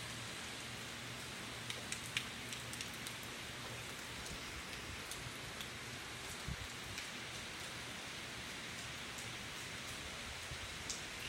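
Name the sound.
heavy rain during Hurricane Michael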